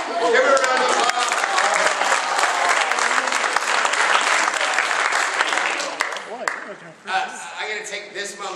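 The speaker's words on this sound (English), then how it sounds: "Give her a round of applause." Sustained, loud applause from a large acting workshop audience, with steady clapping that thins out near the end as voices start to come through.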